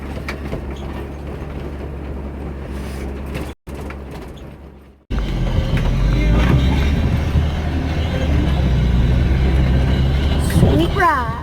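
A 6-cylinder gasoline Land Rover 109 Series IIA station wagon on the road, heard as a loud, rattly engine drone with mechanical clatter that cuts out briefly and then returns louder, with people talking over it.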